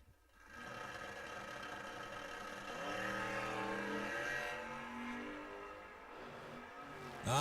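A black Camaro drag racing car at a drag strip race: its engine note climbs and sustains as it accelerates, somewhat distant and faint, fading off near the end.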